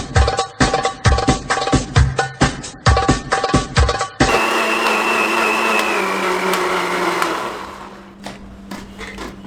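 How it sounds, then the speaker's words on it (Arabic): A kitchen blender whirring loudly in a loose, choppy pulse for about four seconds, then settling into a steady high spin that fades and stops near the end, with no talk over it. "اتفرج على الخلاط بتاعه وهو بيلف"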